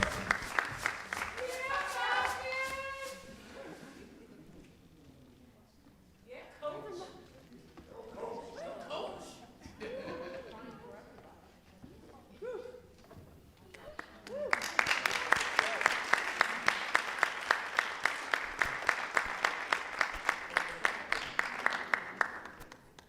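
An audience at a school board of education meeting applauds and cheers. Voices and scattered whoops come first, then steady rhythmic clapping grows loud near the end.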